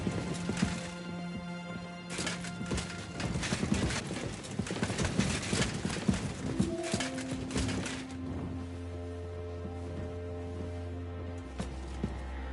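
Horse hooves in a video game clop in a quick, busy rhythm close by, then thin out as tones and a low drone take over.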